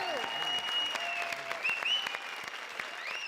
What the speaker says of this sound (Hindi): जोरदार तालियां हमारी वाइल्ड कार्ड एंट्री के लिए